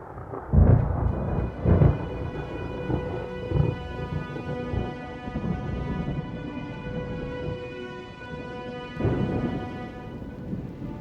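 A thunderstorm rumbles with heavy, steady rain throughout. Loud thunder cracks land near the start and again toward the end, with no voices.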